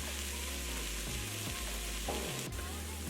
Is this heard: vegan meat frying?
yes